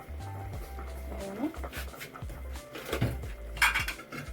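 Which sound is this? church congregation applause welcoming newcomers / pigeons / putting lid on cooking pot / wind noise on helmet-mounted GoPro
putting lid on cooking pot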